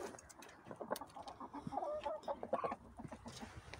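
Chickens cluck, including a yellow hen and a rooster, in a series of close, irregular clucks and short calls, some overlapping, in a henhouse.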